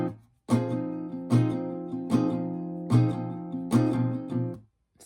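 An acoustic guitar strums chords in a steady rhythm, each bar opening with a heavier, accented down strum, with no voices.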